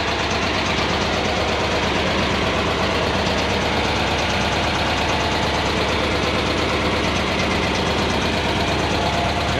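A classic Volkswagen car engine idles steadily, loud and close, with a constant rough mechanical rumble and slight knocking texture throughout, no talk.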